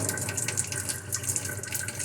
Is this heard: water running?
yes